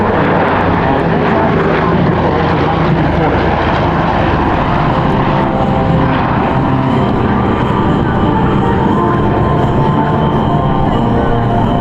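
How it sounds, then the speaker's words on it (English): WWII propeller bombers, a B-24 Liberator and a B-25, pass overhead at an airshow with a loud, continuous rumbling engine roar that holds throughout, while an announcer talks over the noise. "From the right this time, winging over the B-25."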